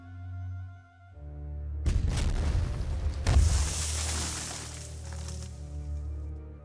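Artillery fire and explosions in a D-Day strategy video game open with a deep boom, followed by a second heavy blast and a long rumbling roar over a steady low background tone.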